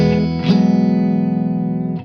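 An electric guitar runs through a Safari Pedals Ladybug Reverb with compression and lo-fi engaged: one sustained, gritty, buzzing chord rings with a slight wobble, then a short pluck cuts it off near the end.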